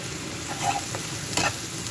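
Prawn pieces frying in oil in a pan, a soft continuous close sizzle with a couple of faint stirring touches, no talking.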